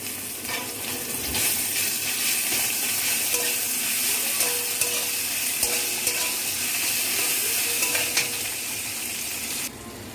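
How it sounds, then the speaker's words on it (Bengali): Steady sizzle of ginger-garlic paste frying with onions fills the clip, broken by occasional clicks and scrapes of stirring, close and fairly loud. "পেঁয়াজটা ভাজা হয়ে গেলে আমি এতে দিয়ে দিচ্ছি আদা রসুন বাটাটা।"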